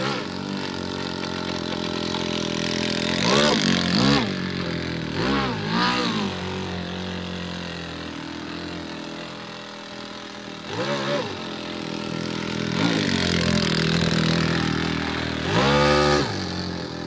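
Airboat engine on its first test run, idling roughly with repeated throttle blips rising and falling in pitch, loud and close, with a steady rumble between bursts.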